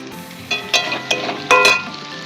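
Dry cumin seeds being roasted and stirred in a frying pan, with a few scraping, clinking stirs against the metal over a low sizzling background, close and moderately loud.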